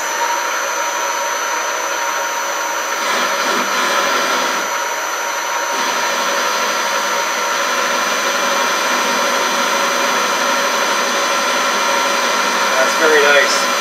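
A Harrison M250 lathe runs its spindle at around 160 RPM, giving a steady mechanical hum and whir that holds even and fairly loud, with faint speech briefly underneath.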